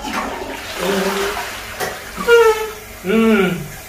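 A toilet being unclogged is flushed, giving a hissing rush of water with gurgling bursts, and a voice talks over part of it.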